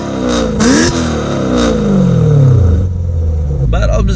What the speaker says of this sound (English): This is with the valves closed. It really sounds sweet. Sounds like a stock M3 E92.